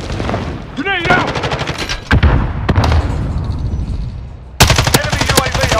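HK G36C (Holger 26) rifle gunfire in Modern Warfare on PS5, rapid automatic bursts of sharp cracks with pauses between, loud and close, with a voice heard briefly near the start.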